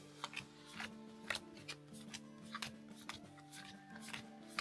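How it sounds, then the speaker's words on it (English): A deck of shop cards from a Tamagotchi Collections tabletop game being shuffled, soft repeated riffling and card snaps in quick irregular bursts over a steady musical tone. "Behold, our really great shuffling."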